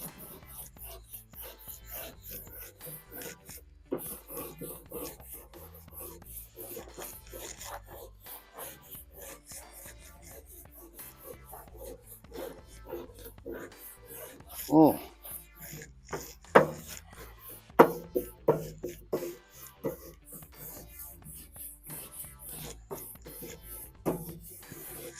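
A hot griddle used for deer meatloaf and wings is scrubbed clean with repeated rasping strokes, soft at first then louder with sharp scrapes near the middle, close up and without speech.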